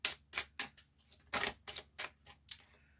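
Lady Lenormand oracle cards are drawn and laid out for a nine-card tarot reading, making a series of soft, quick snaps and taps in an irregular rhythm, close by and faint.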